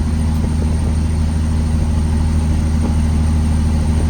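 A Peterbilt 379 truck with an 18-speed transmission runs with a loud, steady low diesel drone heard from inside the cab while being driven through its gears.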